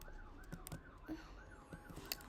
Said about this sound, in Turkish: Bu polis sesleri nereden geliyor?